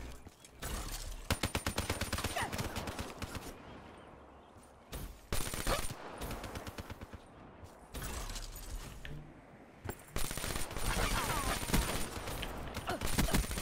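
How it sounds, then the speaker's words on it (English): Bursts of rapid gunfire crackle in repeated volleys with short gaps between, loud and sharp, like shooting in a game. "Oh, that was a good gunfire right there."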